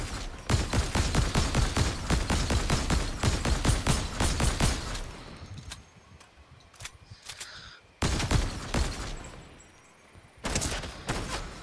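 Rapid submachine-gun bursts in a first-person shooter game, a dense volley of shots for about five seconds, then sparse distant pops, then two more loud close bursts.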